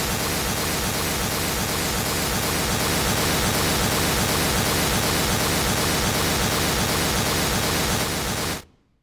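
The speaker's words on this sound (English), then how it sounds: "we're using not true random noise, but pseudo-random noise" A steady, loud wash of broadband pseudo-random noise test signal, played through a three-way loudspeaker reference system, fills the whole stretch without change, then stops abruptly near the end.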